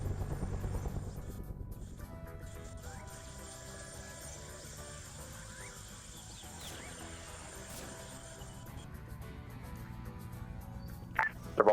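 Twin biplane engines in the Arma 3 Vietnam war game, a loud droning propeller hum that fades to a steady background over several seconds, with a sharp burst of noise at the very end.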